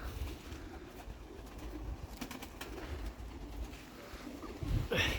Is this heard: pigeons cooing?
yes